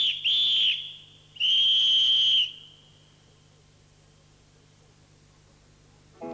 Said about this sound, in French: Monsieur Bienfait porta le sifflet à ses lèvres.